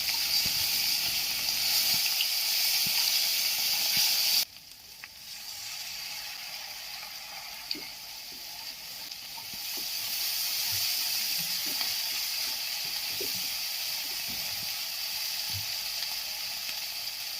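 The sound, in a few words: sautéing chili and spices in a pan for koi fish curry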